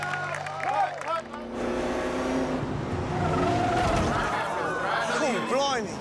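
Period race cars on the Fontana Speedway track during a re-created 1960s race, engines roaring and tires squealing as cars sweep past, with voices talking over the continuous loud motor noise.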